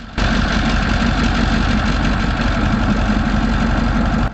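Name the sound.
Cummins K2000E V16 engine running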